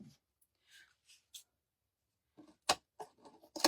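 Scissors snip through fabric in short, crisp cuts, a few sparse ones followed by a quicker cluster, close and fairly quiet.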